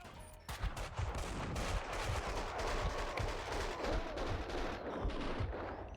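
Dual Beretta 9mm pistols fire rapidly and continuously in the video game Max Payne 2, a dense, loud stream of overlapping shots with no talking.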